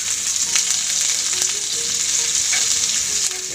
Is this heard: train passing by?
no